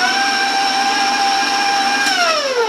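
An electric mixer whirs steadily at high speed through applesauce spice cake batter, a loud continuous motor whine with its pitch dropping slightly near the end as the speed changes.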